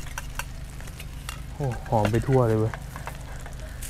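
Food sizzles and fries steadily in a hot pan at an outdoor campsite, close and continuous, while someone speaks briefly over the crackle.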